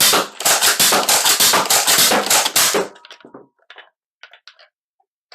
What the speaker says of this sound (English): just prime it back and shoot it as normal